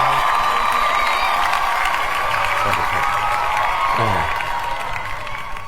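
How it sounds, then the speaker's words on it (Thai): Thunderous applause and cheering fill a radio studio in a steady, dense wash of clapping that holds for several seconds before easing slightly. "เสียงปรบมือเกลียวกราวนะฮะ"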